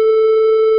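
A synthesized triangle-wave tone holds at one steady pitch for under a second. It is loud and buzzy with a strong fundamental and clear upper harmonics, and there is no other sound.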